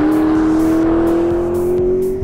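Turbocharged engine of a 2018 McLaren 650S growling through its exhaust, a steady loud drone with a slowly rising pitch as it revs, close and continuous with no talk.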